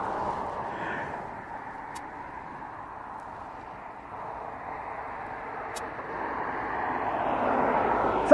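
A Ryanair airliner at East Midlands Airport gives a steady, broad engine roar heard from a moderate distance, rising slightly louder toward the end, with no talk over it.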